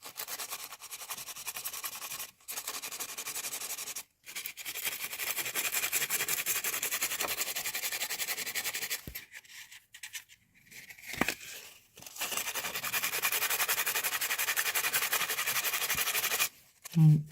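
Sandpaper, 220 and 800 grit, rubbed by hand over filler in a bathtub dent repair, giving a steady close scratchy rasp in long strokes with a few brief pauses and no talk.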